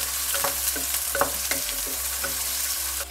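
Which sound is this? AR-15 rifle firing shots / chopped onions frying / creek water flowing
chopped onions frying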